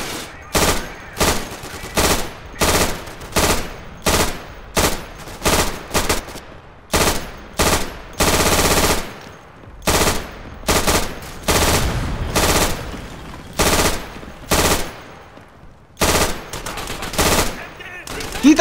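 Machine gun suppressive fire in Day of Infamy on a Dunkirk invasion map comes in loud, close, repeated bursts separated by brief pauses, with one longer sustained stretch, and faint voices beneath.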